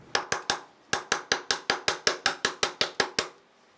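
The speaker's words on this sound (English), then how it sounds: "Give this a couple of taps, see if we can seat and push our axle backwards." Hammer blows on a Honda Element axle nut during front lower ball joint replacement, about fifteen sharp metallic taps in a quick even rhythm after a short opening trio, close and clear with nothing else heard.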